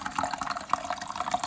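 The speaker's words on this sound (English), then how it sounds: "so maybe that's why it is a very strong flow of the water in the aquarium" A Tetra EX 800 plus aquarium filter after four years of use pushes a strong stream of water into the tank, heard as a brief, close burble of splashing and bubbling flow.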